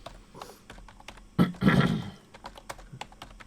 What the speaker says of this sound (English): I won't speak this whole thing as I clumsily type it.